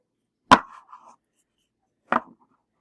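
New oracle cards being shuffled give two sharp, crisp snaps about a second and a half apart, each trailing off into a short papery rustle, close and clear in an otherwise silent room.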